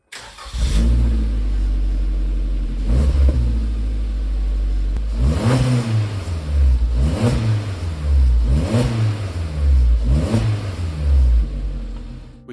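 A 2021 Suzuki Jimny JB74 with a new Yoshimura catback exhaust starts up, then gives a series of loud, close revs rising and falling at a regular pace over a deep rumbling idle.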